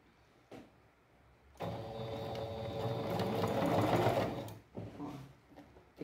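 A sewing machine stitches fabric pieces for a patchwork rug, its motor whirring in a steady close run of a few seconds between short quiet pauses and small clicks.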